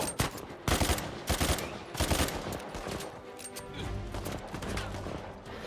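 Rapid bursts of weapon fire from a gun in Uncharted 4: A Thief's End on PS5, several sharp loud volleys in the first two seconds, then a steadier rumble of continued shooting and game noise.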